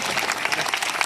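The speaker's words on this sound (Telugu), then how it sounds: "మరొకసారి అందరూ గట్టిగా చప్పట్లు." Brief burst of applause from an audience at a devotional gathering after a children's performance, a dense patter of clapping heard at a moderate distance.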